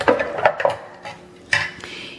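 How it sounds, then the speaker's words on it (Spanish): Blended rice horchata being stirred hard in a jug. Close, bright clinks and knocks of a utensil against the container come in quick bursts, separated by short quieter pauses. "Vamos a batir muy, pero muy bien."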